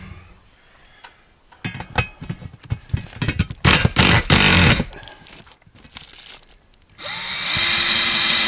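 Power drill tightening a bracket for a garage wall storage shelf, in short irregular bursts of whirring and rattling, then a steadier, louder run near the end with no talking.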